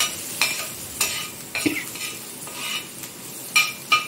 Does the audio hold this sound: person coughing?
no